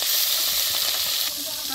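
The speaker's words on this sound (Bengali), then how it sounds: "তেল গরম হয়েছে, এখন আমি চেলা মাছ একটা একটা করে দিয়ে দিব এরকম করে।" Small chela river fish frying in hot oil, a bright dense sizzle that hisses steadily throughout, close and loud, with no one talking.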